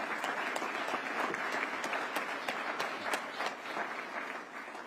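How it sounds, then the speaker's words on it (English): An audience at the 2024 Police Community Relations Awards applauds for an absent youth award recipient, a full steady roll of clapping filling the hall with no pause. "Let's give her a round of applause, though"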